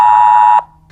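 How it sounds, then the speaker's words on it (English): A cell phone sounds an emergency mobile alert: a loud, piercing steady alarm tone lasting about half a second, then cutting off abruptly to near silence. "you should receive a distinctive alarm sound with a text message"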